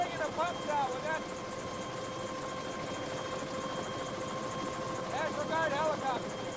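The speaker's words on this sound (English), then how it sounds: "National Guard helicopter." A National Guard helicopter's steady rotor drone fills the background, moderately distant, while people talk over it during flooding.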